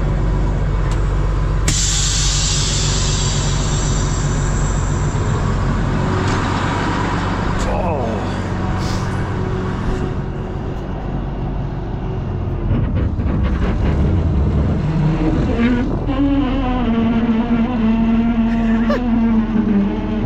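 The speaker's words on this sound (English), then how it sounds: "So now if we lock the trailer, we should be able to push the truck forward." A truck with a tanker trailer strains forward while the trailer is locked, a heavy rumbling engine with hissing and whining that rises into a sustained tonal drone, all at close range.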